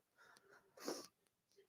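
A single short sneeze bursts out midway, sharp and fairly close, preceded by faint breathy sniffs and followed by quiet rustling during a darts watchalong stream.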